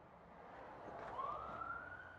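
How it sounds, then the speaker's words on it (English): A fire engine's siren sounds at a distance on a warm day on a road, a faint wail rising in pitch as it draws nearer, set over a low hum of traffic. "that's the second fire engine I've seen."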